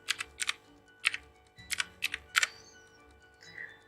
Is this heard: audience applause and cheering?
no